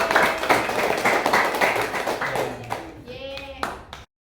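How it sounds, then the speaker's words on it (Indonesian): Children clapping together in a classroom during an informatics lesson, a steady burst of hand claps lasting several seconds before fading, followed by a brief cheer. "Tepuk tangan buat semuanya."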